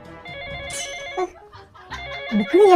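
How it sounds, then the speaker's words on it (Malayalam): A phone rings indoors with a melodic, tonal ringtone that repeats over a couple of seconds and grows louder toward the end. "ഫോൺ അടിക്കണ്ട്"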